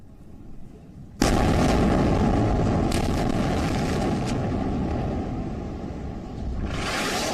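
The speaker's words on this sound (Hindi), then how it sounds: "इजराइल की वायुसेना लगातार गाजा में हमास के ठिकानों को बम से उड़ा रही है" Israeli air strikes on Gaza: after a quiet second, a loud, sustained blast-like roar fills the rest of the span, with rumbling bursts and a brief swell near the end.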